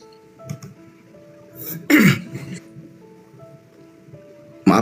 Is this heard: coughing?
yes